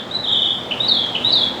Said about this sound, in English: Listen to those birds up there.